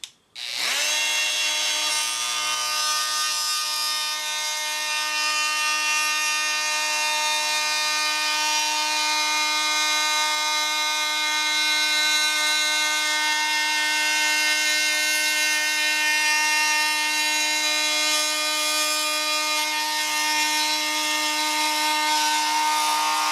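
A power tool cuts through hard old ash wood with a continuous, loud, high-pitched whine that starts abruptly and holds steady throughout with no pauses.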